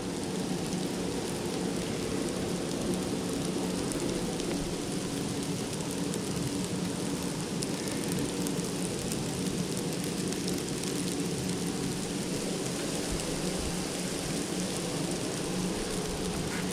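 Steady rain or sleet falls outdoors, a continuous, even hiss of drops pattering on surfaces around a van, moderately close with no breaks.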